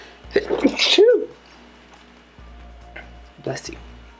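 A single sharp sneeze from a woman, close and loud, followed by quiet room tone and a brief murmur.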